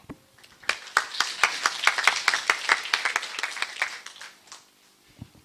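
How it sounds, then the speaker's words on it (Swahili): Audience applause at a county best practice award forum, a steady burst of many hands clapping that swells for about four seconds and then fades out to a few scattered claps. "Makofi tena kwa Dr. Oyaro."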